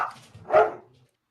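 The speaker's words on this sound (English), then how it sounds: "whatever your dog said." A single dog bark rings out close and fairly loud, a short burst after a faint lead-in, with a quiet room behind it.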